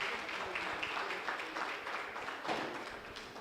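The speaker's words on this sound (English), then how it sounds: "Round of applause for him," An audience at an arts festival panel on Hausa popular culture gives the moderator a short round of applause, moderate clapping, fairly distant, lasting a few seconds.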